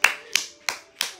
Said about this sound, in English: Good job. Clap your hands.